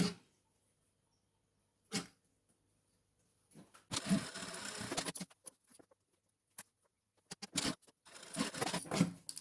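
A home sewing machine stitching fabric during a DIY sewing session: a few isolated clicks and taps, then short bursts of close, busy machine running that start and stop, with no talking.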